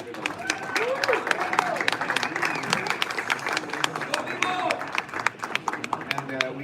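Audience applause at a boxing press conference with WBA light heavyweight champion Dmitry Bivol, a dense, steady patter of many hands clapping at moderate distance, with voices murmuring underneath.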